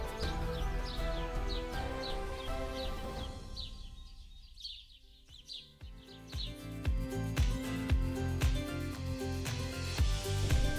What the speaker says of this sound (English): I can literally hear the birds chirping all around the forest